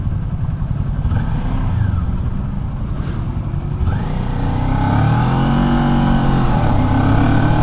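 A 2023 Kawasaki Ninja 400 pulls away in third gear, its engine note climbing steadily in pitch and loudness as it accelerates, heard close with wind rush and no talking.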